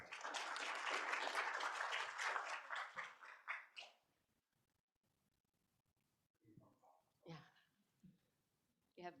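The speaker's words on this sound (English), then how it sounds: "Let's give him a round of applause." A conference audience claps briskly for about four seconds, loud and dense, then the applause stops abruptly; a few faint scattered sounds and brief speech follow in the quiet afterward.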